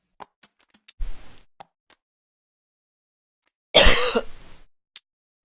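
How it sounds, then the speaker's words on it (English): Two lingering coughs, a short one and then a longer, harsher one, separated by quiet, with faint clicks scattered around them. "No, it's just a lingering cough."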